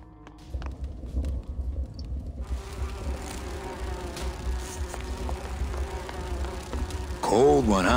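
Buzzing bees in the video game Grim Fandango, a continuous droning insect hum under game ambience with faint steps, ending in a short rising tonal sweep.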